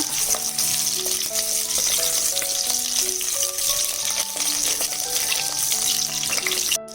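Goat legs being fried in a pan for soup give a steady loud sizzle with stirring clatter throughout, while a voice talks over it.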